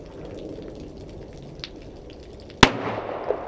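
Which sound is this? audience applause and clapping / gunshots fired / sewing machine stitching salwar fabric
gunshots fired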